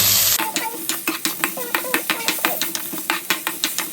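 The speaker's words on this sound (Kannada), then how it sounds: "ಇದನ್ನು ಅದೇ ಥರನ ಫ್ರೈ ಮಾಡ್ಕೋಬೇಕು" Chopped unripe tomato and other chutney ingredients fry in hot oil in a pan, with a loud, close sizzle under quick, rhythmic scraping strokes of a spatula stirring them.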